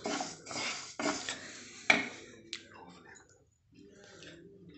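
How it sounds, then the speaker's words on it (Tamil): Red rice being dry roasted in a pan over low heat, with a few close scraping stirs and clicks of a utensil against the pan, fading to a quiet rustle near the end. "நான் வந்து ஸ்லோவில் தான் வச்சு வறுக்கிறேன்."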